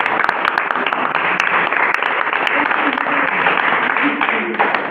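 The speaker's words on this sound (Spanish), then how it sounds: "pido un fuerte aplauso, por favor" An audience gives a guest, a law graduate, sustained applause. The dense, steady clapping fills the whole stretch at close range, with a few sharper individual claps standing out.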